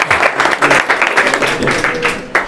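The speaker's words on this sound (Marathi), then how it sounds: "दादांसाठी तरी एकदा जोरदार टाळ्या" A classroom audience at a quiz session in Washim claps on cue, loud close applause in uneven bursts that fade toward the end, with some voices underneath.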